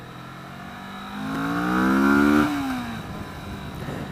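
A 2015 Kawasaki Vulcan S motorcycle accelerates hard through a short first gear, its engine note climbing steadily in pitch for about a second and a half before dropping on the shift, then settling into a lower drone, loud and close.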